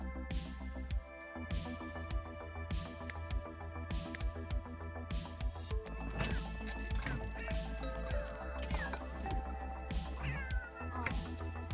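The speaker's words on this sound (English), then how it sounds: "Cats are being loud." Cats in The Sims 3 meowing and caterwauling loudly over and over, their drawn-out wavering cries sitting over a steady bed of game music and ambience, with no talking.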